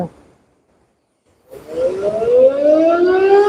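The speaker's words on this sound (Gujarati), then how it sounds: "સાયરનનો અવાજ તમે સાંભળી શકો છો" After a short silence a warning siren at Dharoi Dam, sounded as its gates open onto the Sabarmati River, starts up and climbs steadily in pitch, a loud, rising wail that keeps building.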